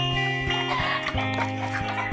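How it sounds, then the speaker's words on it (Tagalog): A chicken being caught for tinola clucks and squawks in agitated, repeated bursts over a steady background hum, close and loud, with no talk. "huhuli po tayo ng manok dito"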